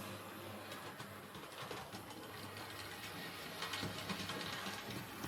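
A Hornby Standard Class 4MT model locomotive runs along its track, making a faint, steady mechanical whir and rattle that carries on evenly throughout.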